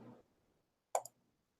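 A single computer mouse click, crisp and close, made as a double tick in quiet surroundings, with faint background hum just before.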